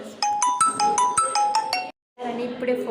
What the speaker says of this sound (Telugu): ఫోన్ అయితే వచ్చింది తీసుకెళ్తున్నాను